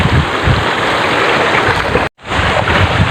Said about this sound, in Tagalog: Umalon na lang gusto yung karagatan.